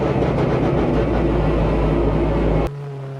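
Cabin of a Peugeot 406 Super Touring race car: a loud, dense mechanical roar fills the interior steadily, then cuts sharply to a quieter hum near the end.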